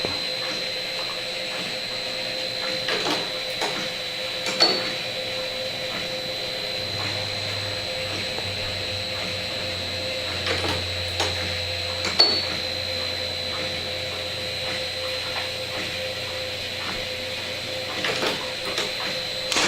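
An 1860s Pratt & Whitney rifling machine running in a shop, a steady mechanical drone with a high whine and occasional clanks, close and continuous.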